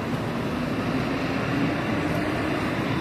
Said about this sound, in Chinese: 那外面有车声，有人声